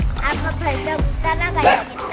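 Several dogs barking excitedly at visitors at an insect farm in Iksan, rapid overlapping yips and barks, close and loud, with a person talking over them.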